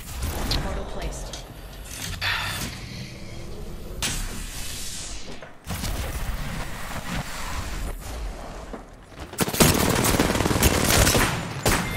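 Bursts of gunfire in the battle royale shooter Apex Legends crackle loudly in repeated volleys with broad noisy blasts, and a player talks over them.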